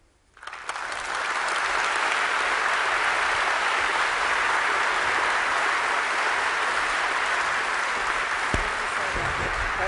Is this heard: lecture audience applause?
yes